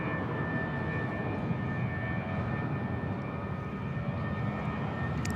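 A Thai Smile Airbus A320 airliner at Bangkok Suvarnabhumi Airport gives a steady, loud jet roar with a constant whining tone, unbroken for the whole stretch.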